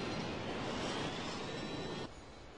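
Jet airliner engine spooling up in the flight simulator FSX, a steady loud broadband roar and whine that drops to a lower level near the end.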